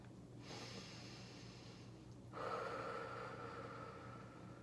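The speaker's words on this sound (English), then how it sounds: "Lots of big breaths in here." Big deep breaths during an exercise workout, two long, close airy exhales in succession, the second louder and rougher, with a faint hum underneath.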